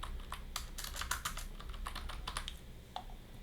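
Rapid keystrokes on a computer keyboard while entering text into an Excel macro, a dense burst of clicks followed by a few scattered taps, close and clear over a low steady hum.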